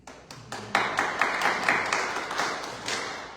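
Audience applause at a poetry reading, a burst of many hands clapping that swells quickly and holds steady at moderate loudness, nearby and continuous, without talk over it.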